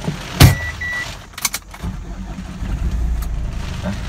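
A 2010 Ford diesel 4x4 fires up with a sharp starter burst, then settles into a steady, clattering idle close by, with a few brief clicks and whirs from the cabin before it.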